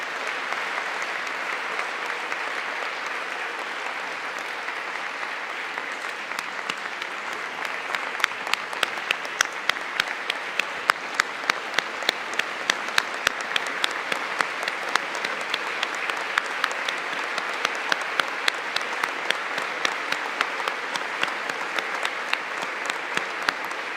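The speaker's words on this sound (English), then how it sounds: "let's give them another round of applause for all of the work that they're doing in our community" A large audience at a city State of the City event applauds steadily for about twenty seconds, a dense wash of clapping that grows sharper and more distinct in the middle, with no talk over it.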